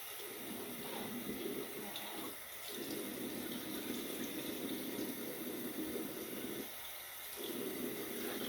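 Tap water runs steadily into a sink as a face is rinsed after a shave, a continuous hiss with brief dips where hands cup and splash the flow.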